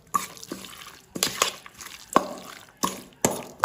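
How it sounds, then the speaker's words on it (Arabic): Half a kilo of liver being mixed with seasonings in a bowl, giving several wet, squelching stirs and slaps in an irregular rhythm, close and moderately loud, with no talking. "نخلط كله مع بعضه"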